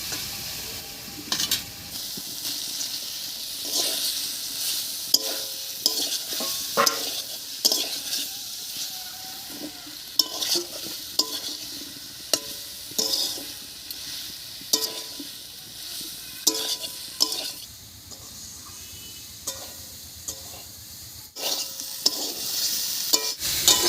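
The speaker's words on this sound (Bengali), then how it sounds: "এবার এর মধ্যে দেবো ভেজে রাখা ফুলকপি আর সোয়াবিন" Fried cauliflower and soybean being stir-fried with boiled potato and spices, a sizzle under frequent spoon scrapes and metallic clinks against the pan, in uneven bursts.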